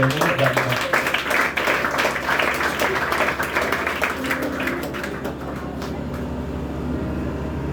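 A church congregation claps together during a worship service, making a dense, steady patter of many hands. The applause is moderately loud and fades slightly toward the end.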